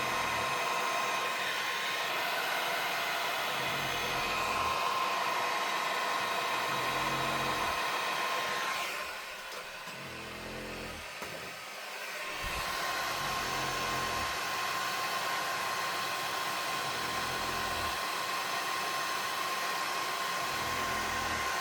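A handheld blower dries wet ink on a stamped card, a loud, constant whooshing hum that cuts out briefly partway through and then resumes steadily, with no one speaking.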